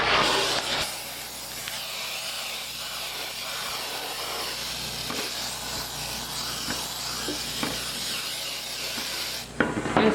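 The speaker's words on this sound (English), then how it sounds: "And spray your container." Cooking spray misted from an aerosol can into a container for eggplant parmesan, a steady close hiss running for several seconds before stopping with a faint clatter at the end.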